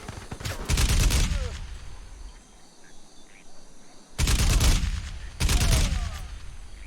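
Automatic gunfire in Crysis Remastered, three loud separate bursts of rapid shots with quiet ambient gaps and faint bird or insect sounds between them.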